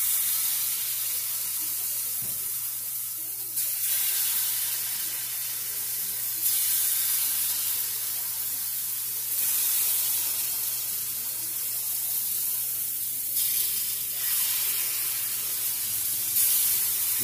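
Steady, loud sizzling of hot water cornbread batter frying in hot oil, a continuous bright hiss with slight surges, no voices.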